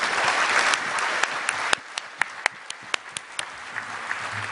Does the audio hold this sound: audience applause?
yes